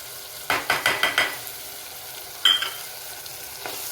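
Spinach paste being stirred into fresh pigeon peas in a hot pan gives a quick run of five sizzling, scraping strokes, then a sharper clink of the spoon and a faint final scrape over low background hiss.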